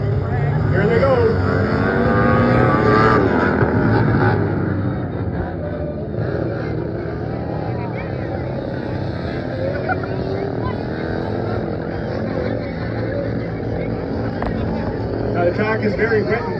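Outlaw racing lawnmowers leave the line together at the start of a race on a wet, muddy track, their small engines roaring in a loud, continuous, layered drone as a commentator speaks over them.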